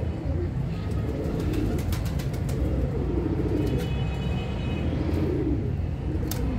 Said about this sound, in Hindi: ये कबूतर ने ना पत्ता उखाड़ लिया